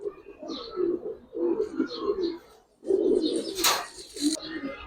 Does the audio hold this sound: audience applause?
no